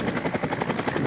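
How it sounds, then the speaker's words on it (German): Bell UH-1D military helicopter flying at an air base open day, a steady loud rotor chop with rhythmic thumping pulses over broadband engine and turbine roar, no voices. "Gleich zu Anfang stellt sich ein Bell UH-1D Hubschrauber vor."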